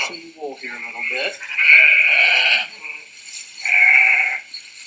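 Sheep on an Iowa meat-sheep farm bleat in two long, loud, wavering calls, mixed with a person talking nearby.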